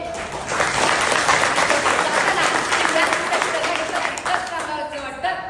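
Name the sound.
audience applause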